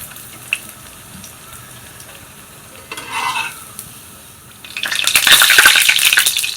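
Bread slices for Shahi Tukda frying in hot oil, a bright crackling sizzle that swells strongly in the last two seconds after quieter pan noise and a brief bubbling burst.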